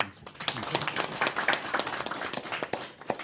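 Audience applause at a policy forum on an independence activist, a dense burst of many hands clapping steadily for about three seconds in a hall, fairly close and even, with no talking over it.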